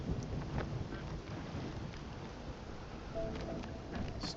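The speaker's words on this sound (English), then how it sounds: "A little bit of rain and thunder." Rain and rolling thunder in the video game Spiritfarer, a continuous dull rumble with a wash of rainfall at moderate loudness, no talking.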